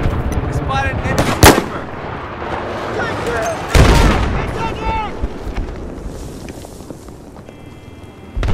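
Loud, close gunfire and heavy blasts in a Battlefield video game, with sharp cracks and booming impacts, while a radio-style voice speaks over the combat.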